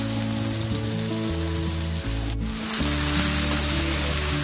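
A large nutter fish frying in a pan: a continuous, close, loud sizzle, with occasional scraping noise and an ongoing low hum, and no talk.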